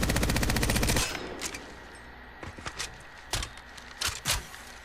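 Automatic weapon fire in Apex Legends, a rapid burst of recoiling shots for about a second, then scattered louder single impacts and thuds over a quieter background.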